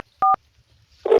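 Two short telephone keypad tones sound as a number is dialed, each a clean electronic beep about a second apart, clear and close in near silence.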